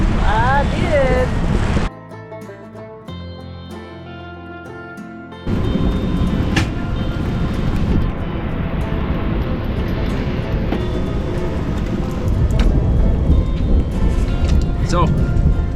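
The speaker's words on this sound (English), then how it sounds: "It's raining." A sudden rainstorm with thunder hits around a full-time RV, heavy rain roaring loudly throughout with rumbling thunder, a quieter lull early on, then the downpour returning strong and steady.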